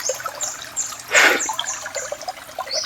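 Slow water trickling among rocks at a riverside laundry spot, a soft steady flow with a brief louder splashing gush midway, heard alone with no voices.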